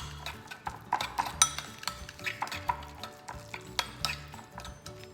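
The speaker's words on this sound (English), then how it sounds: "add the Parmesan and the mayo together, and you mix it up. Okay, and you stir it up real good." A Parmesan and mayo mixture being stirred in a bowl, with a rhythmic run of scraping, clinking utensil strokes against the bowl, close and distinct, about a dozen accented beats.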